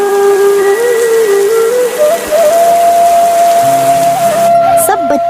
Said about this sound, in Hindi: कुछ देर बाद तेज बारिश होने लगती है।